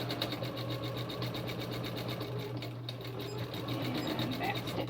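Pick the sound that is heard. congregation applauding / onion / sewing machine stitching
sewing machine stitching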